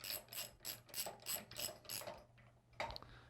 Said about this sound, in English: So I got my 24mm socket wrench.